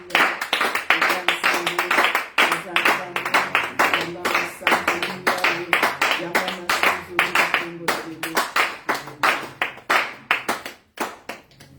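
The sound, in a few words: congregation clapping in acclamation during worship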